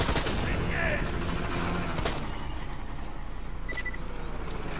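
Gunfire in Borderlands 2 crackles through a busy combat scene: dense, rapid bursts of shots over continuous game noise, with a couple of sharper cracks standing out.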